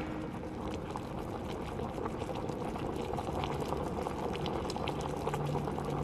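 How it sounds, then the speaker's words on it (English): Liquid bubbles in a vessel in Amnesia: Rebirth, a steady dense roiling boil that stays even and fairly loud from start to finish, with no talk. "It's bubbling."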